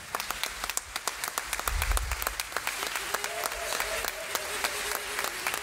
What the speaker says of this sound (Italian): vorrei veramente rivolgere un applauso da parte di tutto il teatro